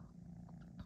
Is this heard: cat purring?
yes